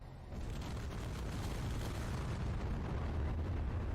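Ship grinding against another ship with explosions in Space Engineers 2, a continuous loud, rumbling, crunching roar with dense low-end booms that swells slightly and never lets up.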